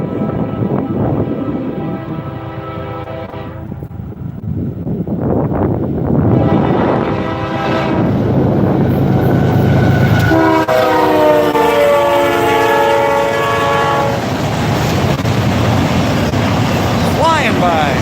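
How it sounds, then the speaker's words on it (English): A CSX freight train carrying auto racks rolls past at close range, a steady loud rumble of wheels and cars with horn blasts sounding partway through. "Okay, here's this train. Let's see if it's this auto rack you mentioned."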